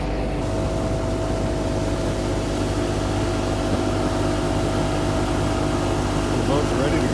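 Seaflite 179SS motorboat cruising easily at about 20 mph on its outboard motor, a steady close engine drone with water and wind rush running unbroken throughout.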